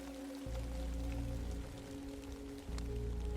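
Steady rain falls outside a cabin during a stormy night scene, a continuous soft patter over a low rumbling drone that drops briefly and returns.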